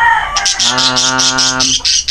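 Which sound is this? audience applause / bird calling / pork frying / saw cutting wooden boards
bird calling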